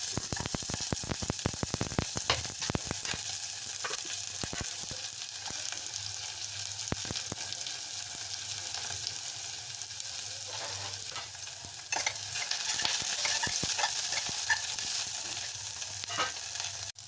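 Onions frying in about two spoons of oil in a pan for a traditional horse gram curry, a steady close sizzle with scattered clinks and scrapes from stirring early on.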